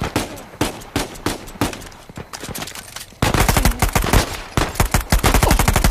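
Video game gunfire in Uncharted 4: A Thief's End, with rapid irregular shots at first, then a denser, louder automatic volley of evenly spaced bursts.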